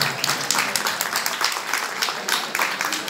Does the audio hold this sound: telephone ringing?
no